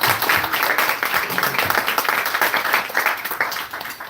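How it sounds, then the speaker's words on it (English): A devotional class audience gives a round of applause, dense mixed clapping filling the space at a steady level before fading slightly at the end. "Let's give a big round of applause for him."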